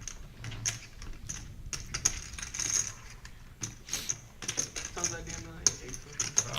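Poker chips clicking and clattering in short bursts during a $1/$3 no-limit hold'em cash game, with sharp repeated clacks amid low table murmur and background talk.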